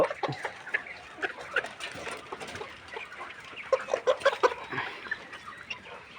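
Chickens cluck close by in a poultry keeper's flock that includes a hen with a sore, closed, watering eye. Low, repeated clucks and short squawky calls come in an uneven, constant chatter throughout.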